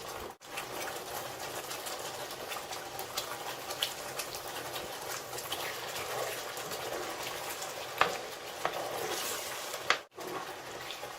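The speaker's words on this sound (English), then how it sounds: "I'm going to fry the stew a little bit before I will add other things to it." Stew of stockfish and melluza fish frying in a pot for a Nigerian recipe, giving a steady, close sizzle and bubbling hiss that runs unbroken, with a couple of brief clicks and a short break near the end; no one speaks.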